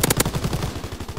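Rapid automatic gunfire in a video game shooter: a fast, evenly spaced burst of close, loud shots, with no talking.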